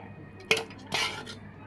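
A spoon scraping and cutting through halim in a bowl, two distinct clinking scrapes about half a second apart with a fainter third, close and clear with no talking.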